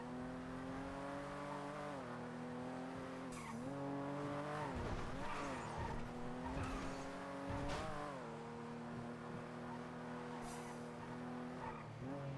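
Video game race cars in a time trial, engines droning and shifting pitch as they accelerate, with tire squeals and skids breaking in through the middle, quiet overall.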